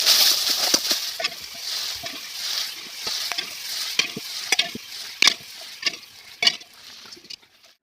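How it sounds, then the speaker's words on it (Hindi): Lentils going into a pan of fried onions with ground turmeric, chili and garlic, bringing a bright sizzle and frying hiss broken by repeated sharp scrapes and stirring knocks. "तो अब मैं इसमें दाल डालूँगी।"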